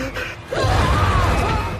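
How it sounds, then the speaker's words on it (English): A man in a panic attack gasps for breath aboard a passenger flight, with a sharp strained inhale followed by ragged, labored breathing, close and loud. "Lance struggles with a panic attack, gasping for breath."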